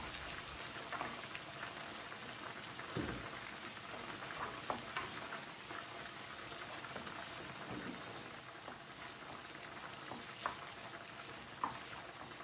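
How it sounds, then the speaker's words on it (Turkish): Tomato paste and onion sizzle in a pan, a steady soft crackling hiss with scattered pops and faint stirring clicks throughout, alone and fairly quiet. "Salçayı da 3-4 dakika kavuruyorum."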